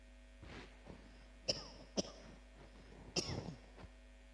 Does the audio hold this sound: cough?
yes